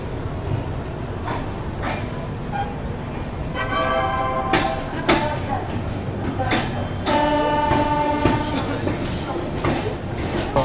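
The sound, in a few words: Rajdhani Express train departing Gwalior Junction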